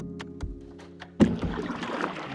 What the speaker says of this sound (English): We are kayaking in June Lake.